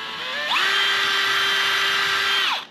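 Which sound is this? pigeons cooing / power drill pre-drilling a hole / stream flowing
power drill pre-drilling a hole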